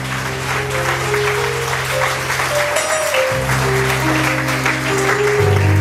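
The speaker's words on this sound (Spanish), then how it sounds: "Den el aplauso al Padre, al Hijo y al Espíritu Santo." Steady congregation applause at a church service fills the space throughout, with sustained organ-like musical tones playing underneath.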